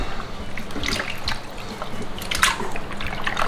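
Chunks of rainbow trout drop into a brine with wet splashes, drips and trickling liquid, close up and without talk.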